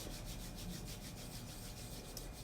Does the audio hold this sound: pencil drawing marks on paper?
no